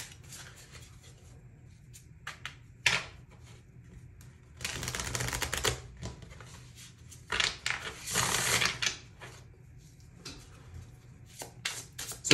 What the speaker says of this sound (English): You can scroll ahead from the shuffling and skip ahead that way.